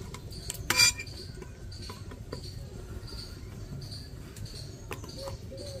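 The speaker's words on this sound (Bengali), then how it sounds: "বাটিগুলো এক এক করে বসিয়ে দিচ্ছি" Bowls for steamed mung dal pitha are set one by one into a steamer, giving a sharp ceramic clink near the start, then several lighter, scattered taps over a quiet background.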